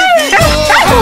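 Dogs bark and yip in short excited bursts, close and loud, mixed with whimpering at a party.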